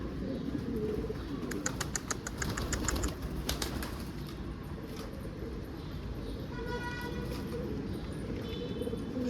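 Pigeons cooing and flapping their wings, with bursts of fluttering wingbeats and chirps over constant rumbling background noise, close by and fairly loud.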